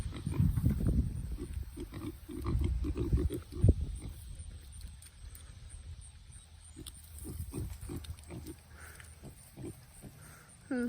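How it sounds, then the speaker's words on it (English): A pig grunts in a muddy farm pen shared with goats. A burst of low, close grunts comes first, then quieter snorts and shuffling follow. "Pig's curious about you, Finny."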